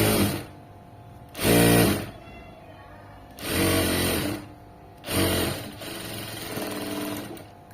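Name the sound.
sewing machine stitching piping onto cloth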